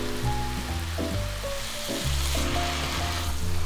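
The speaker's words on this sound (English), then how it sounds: "You just want to saute this until they become like nice and golden brown and most of the beef is cooked." Thin-sliced beef for gyudon sautés in a hot pan with a loud, continuous sizzle, and a tonal hum sits steadily underneath it.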